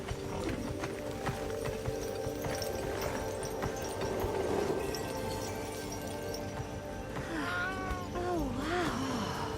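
A cat meows in the video game Monster Hunter Wilds: two or three drawn-out, rising-and-falling meows near the end, set against a steady bed of game music, ambience and clopping hooves.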